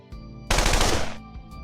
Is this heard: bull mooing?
no